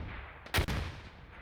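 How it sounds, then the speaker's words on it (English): A big explosion in a multiplayer war video game goes off as one sudden, loud boom with a short second burst. It fades out over a low background rumble. "Big booms happening to the north there"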